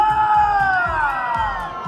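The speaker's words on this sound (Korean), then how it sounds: "박수와 함성!" A crowd at a Christmas show at Everland amusement park cheers and shouts, a loud, continuous swell of voices with a bright whooping tone running through it.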